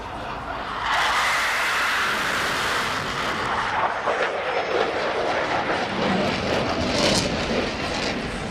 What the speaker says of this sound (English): a good look coming right into your living room at an F-18F Superhornet, the newest generation of this jet